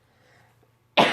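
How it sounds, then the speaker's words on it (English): A single loud, sharp cough bursts out near the end, close to the microphone, after a stretch of faint low background noise. "I am sorry for coughing."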